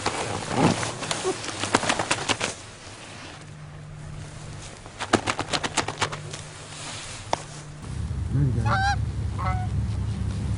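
A flock of geese honks repeatedly, near and far, during a goose hunt on the water in Colorado, with rustling and a few human sounds in between.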